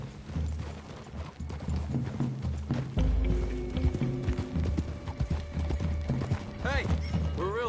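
Horse hooves clip-clopping through a wooded clearing in a video game, a rhythmic trot of several horses close by with an occasional whinny, mixed with background music and rustling movement.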